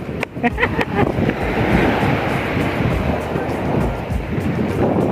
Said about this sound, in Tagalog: Malakas ang alon, guys.